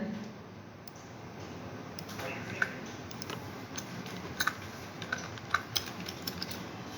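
Scattered keystrokes on a computer keyboard while typing code for a Pandas data-cleaning task, light clicks that grow busier toward the end over a steady background hiss.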